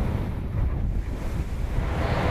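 Ocean waves and surf roll and wash in a steady, continuous roar, with gusts of wind buffeting the microphone throughout and no voices.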